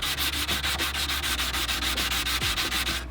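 A wooden bar stool is sanded by hand in quick, even back-and-forth strokes, a rhythmic raspy scrubbing that stays close and steady with no voices.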